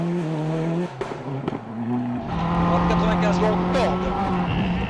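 Francois Delacour's Mitsubishi rally car roars past during the 2002 WRC Network Q Rally GB, its engine note rising loudly with a tyre squeal, under broadcast commentary.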